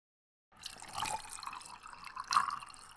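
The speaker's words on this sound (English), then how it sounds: "let me pour myself a nice cold glass of GroupGets water" Cold water poured into a glass, a steady soft splashing trickle with a brief louder gurgle near the end, fairly quiet and heard alone.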